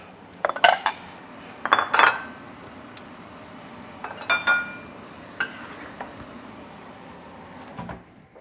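Bowls and utensils clatter and clink in several short bursts, with sharp metallic chinks and knocks separated by brief quiet gaps.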